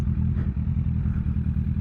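A motorcycle idles in second gear at about 25 mph through a college area, giving a steady, close low engine rumble with an even pulsing throb and no voices.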